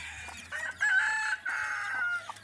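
A labuyo (red junglefowl) rooster crows nearby, one loud drawn-out call with a broken, wavering middle, with no talking over it.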